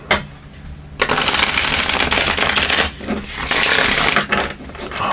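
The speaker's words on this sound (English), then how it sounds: "Get these shuffles again." Wandering Star tarot cards being shuffled during a pick-a-card reading: two loud, close bursts of riffling card noise, each lasting a second or two, separated by a short pause, with no talk.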